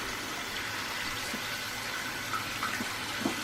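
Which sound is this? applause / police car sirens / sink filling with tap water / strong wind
sink filling with tap water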